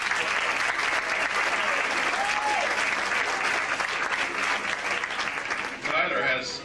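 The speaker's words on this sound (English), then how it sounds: "Round of applause for them." Dense audience applause fills a graduation ceremony for Balboa High School's Class of '93 in Panama, a steady roar of many hands clapping that carries on for several seconds before tapering slightly near the end.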